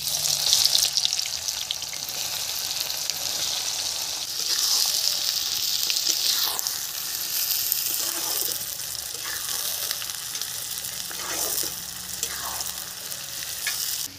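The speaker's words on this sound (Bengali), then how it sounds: "তেল গরম হয়ে গেছে, এখন আমি পেঁয়াজটা দিয়ে দেব।" Onions hitting hot oil in a kadai for Kolkata-style chicken biriyani, giving a steady, close frying sizzle that holds throughout with a few stirring scrapes and no talking.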